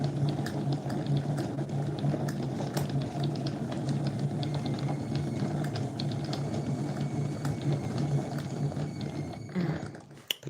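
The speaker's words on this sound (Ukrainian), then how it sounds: "чайник закипів" A steady roiling, bubbling rush of water coming to a boil in a kettle, close and continuous, with faint clicking and a small clunk near the end.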